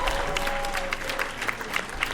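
A video game crowd cheering and applauding in a football tactics game, a steady wash of clapping and crowd noise with a faint tone running through it.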